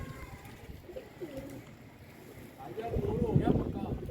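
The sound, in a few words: pigeons cooing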